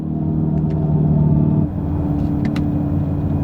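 Synthetic engine sound of a Dodge Charger EV, a steady low rumbling drone that shifts abruptly to a different tone partway through as the setting changes, with a few faint clicks and no talking.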